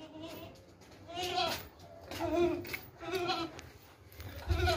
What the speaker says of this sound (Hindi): बहुत ही खूबसूरत बकरी है